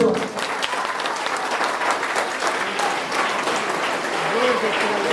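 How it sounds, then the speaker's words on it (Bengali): Applause from an audience at the inauguration of a women's college in Chunarhat, with dense, steady clapping filling the space close by and a voice speaking faintly underneath. "আপনারা একটা তালি দেবেন না"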